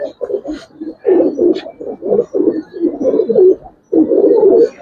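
Giribaz pigeons cooing at a pigeon farm, repeated low rhythmic coos close up in quick runs, with a brief pause before the calls resume.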